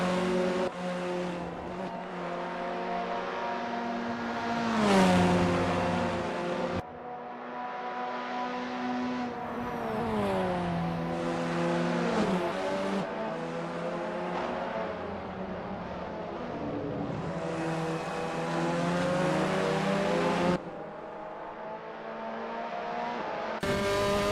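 Formula 4 race car engines from the Assetto Corsa racing game at a Misano round, loud harmonic engine tones rising and falling through gear changes and passes, continuous for the whole span with no talk.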